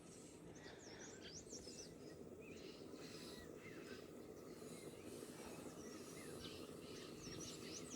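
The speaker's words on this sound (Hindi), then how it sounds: "अलग अलग प्रकार के जो पक्षी है सबके अलग अलग आवाज़।" Various birds chirping and singing outdoors in a village, a busy mix of calls and whistles over a dense, steady background rumble.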